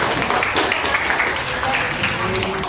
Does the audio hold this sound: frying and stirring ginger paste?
no